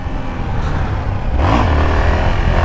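A Yamaha XT 600 motorcycle engine revs hard during a wheelie, holding a close, throaty drone and then surging louder about halfway through as the throttle opens.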